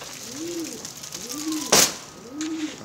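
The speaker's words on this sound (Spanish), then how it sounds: "ahí ven los palomos arriba, las palomas acá." Pigeons in a loft give three low, rounded coos at an even pace, close and clear, with a short sharp knock or clatter between the second and third calls.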